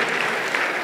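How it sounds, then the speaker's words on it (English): An audience at a Rwandan kick-off training seminar gives a brief burst of dense hand-clapping, steady and fairly close. "Give yourselves a big hand clap."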